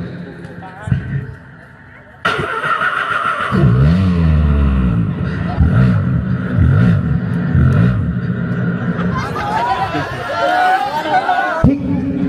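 A voice imitates a car self-starting and pulling out of a new showroom, performed on stage at an Islamic sermon gathering. Rising and falling engine-like vocal tones play over a rumbling crowd murmur.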